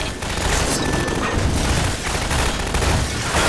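Rapid gunfire from a Half-Life 2 firefight, a dense run of loud, close shots and booming impacts filling the whole stretch with no talk over it.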